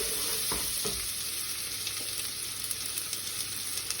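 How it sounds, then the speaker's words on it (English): Onions and garlic sweating in a hot pan give a steady, close broadband sizzle throughout, with a few soft stirring clicks and scrapes early on and no talking. "And then we've got the onions and garlic in there, straight in."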